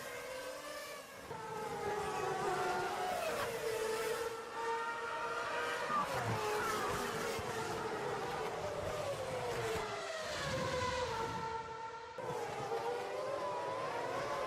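Formula 1 race cars at the 2009 Melbourne Grand Prix, their high-pitched engine whine holding steady and sweeping up and down in pitch as the cars pass, sustained throughout and fairly distant.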